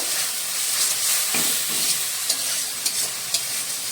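Ginger and garlic fry in a pan for a Bengali fish-head muri ghonto, a loud, even sizzle with occasional spoon scrapes and small clicks as the mixture is stirred.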